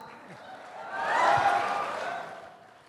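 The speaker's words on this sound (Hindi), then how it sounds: "तो सभी को ताली बजाइए और इनका थोड़ा सा हौसला अफजाई कीजिए।" An audience at a seminar in Patna claps, the applause swelling to a peak midway and then fading back down.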